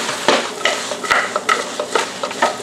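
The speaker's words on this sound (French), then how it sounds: "À brasser de temps en temps." Lemon guinea fowl being stirred in a pot gives repeated scraping and clinking of a spoon against metal about every half second, close and fairly loud, over a faint sizzle, with no talk.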